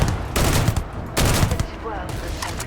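Enemy rocket launcher fire in the Starfield video game, heard as two loud broadband blasts with echoing tails, close by and separated by about a second, with a faint voice underneath.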